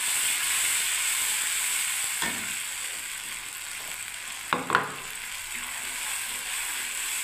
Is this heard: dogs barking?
no